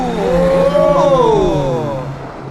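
An old Porsche 911 and supercars race side by side on a wet test track, engines revving up and sweeping in pitch as they pass close by, loud and continuous.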